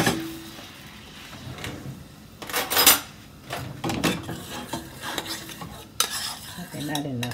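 Garlic butter sauce for lobster tail being stirred, with a utensil scraping and clinking against a pan in irregular bursts and a couple of sharper knocks, close by and without talk.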